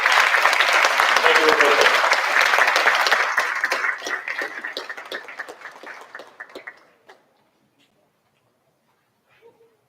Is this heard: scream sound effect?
no